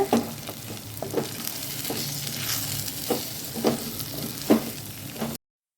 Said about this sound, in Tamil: மசாலா பொருளை 2 நிமிஷம் வதக்கிக்கலாங்க.